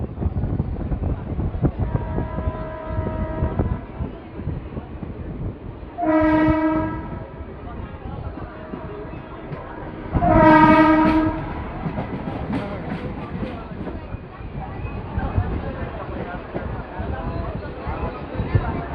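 Mumbai suburban local train bound for Parel running at night: steady loud rumble and rattle of the carriages, broken by two long horn blasts partway through, with voices talking faintly over the noise.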